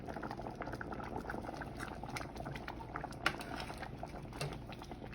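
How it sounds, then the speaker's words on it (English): Rice boiling in a pot on a stove, a steady close bubbling and popping that stays soft and even throughout. "once your rice starts to boil, you just want to stir it up"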